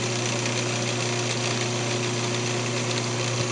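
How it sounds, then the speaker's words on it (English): An air compressor nozzle blows dust off a freshly turned hardwood keychain on a lathe, giving a steady, close hiss with a low hum underneath. "I'm going to go ahead and blow that off real quick with the air compressor"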